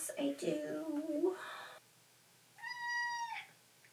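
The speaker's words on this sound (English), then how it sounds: "Meow." A cat's drawn-out meow, clear and close, follows a stretch of talking in a quiet room where someone is crocheting.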